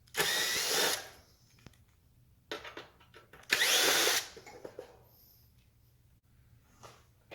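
A power screwdriver whirs in two longer bursts and a few short ones while screws come out of a Samsung dryer heating element assembly, with quiet handling noise between runs.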